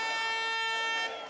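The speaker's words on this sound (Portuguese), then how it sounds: "Também teve buzinaço." Car horns sound at a peaceful street protest as a sustained, steady honking tone that holds for about a second before fading, moderately loud with crowd noise underneath.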